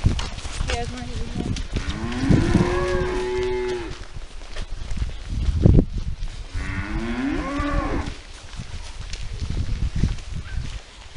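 Cows moo loudly in two long, wailing calls a few seconds apart, with faint livestock movement in between.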